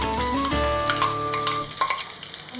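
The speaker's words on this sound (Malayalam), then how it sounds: "പാൻ ചൂടായി വരുമ്പോൾ നമ്മൾ അതിലേക്ക് എടുത്തു വെച്ച സവാള ഇട്ട് കൊടുക്കുക." Sliced onions tossed into hot oil in a pan while making okra masala, a loud sizzling rush with stirring clatter and short crackling bursts over a brief stretch, no one speaking.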